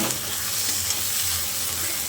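Teasel gourd paste is stirred into frying onions in a hot pan, giving a steady close sizzle with soft scraping strokes and no talking.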